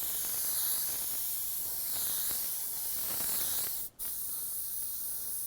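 A spray gun lays a light coat of candy paint in a steady, close hiss with one brief break near the end.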